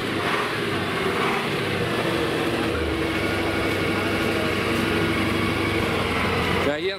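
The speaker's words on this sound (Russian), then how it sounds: "Cayenne завел КамАЗ." A KamAZ truck engine runs after being started, a loud, continuous rough rumble with a steady mechanical drone throughout and a brief sharp noise at the end.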